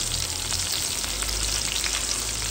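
Curry leaves and green chili sizzle in hot oil with cumin, a steady dense crackle with scattered sharper pops, close and alone with no talking.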